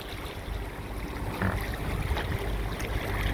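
Sailboats motoring at night under engine with no wind on a passage toward the Moroccan coast, a steady low engine drone mixed with rushing water and hull wash, continuous and fairly close.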